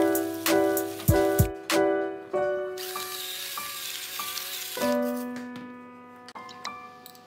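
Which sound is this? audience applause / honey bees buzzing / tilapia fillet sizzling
tilapia fillet sizzling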